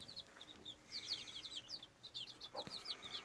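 Village hen chicks chirp in rapid, high-pitched peeps, many overlapping tweets close by and fairly quiet, with no talking.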